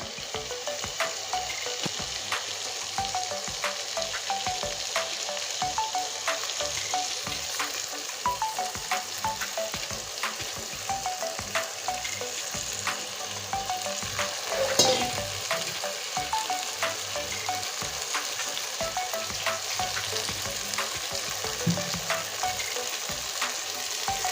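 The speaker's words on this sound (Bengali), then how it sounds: "এবার সুন্দর করে কষতে থাকবো" Pieces of pakal fish, potato and spices sauté in an oily pan, a steady soft sizzle broken by frequent stirring scrapes and a brief louder clatter midway, with no voices.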